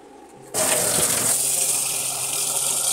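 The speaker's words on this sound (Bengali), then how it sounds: "এখন জল দিয়ে নেবো," Water pours suddenly and steadily onto soaking rice and lentils, a close, loud gushing splash that starts abruptly and continues unbroken without speech.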